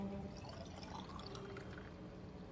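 Water pours steadily into a bottle used as a resonator during a lab practical, a faint, continuous trickling wash with a low gurgle underneath and no voices.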